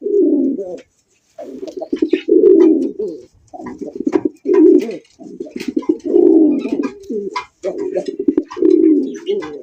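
Pigeons coo in repeated low, rolling bursts separated by short pauses, close and fairly loud, with no talking.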